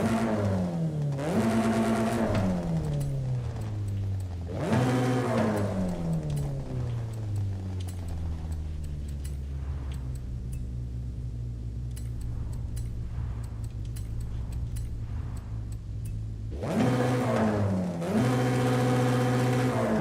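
A 2-liter turbocharged car engine in Forza Horizon 5 revs hard in three bursts, climbing through gears with rising pitch, then settles into a long decelerating drone between pulls, loud and close, with no voices.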